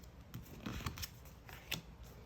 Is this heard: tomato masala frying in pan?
no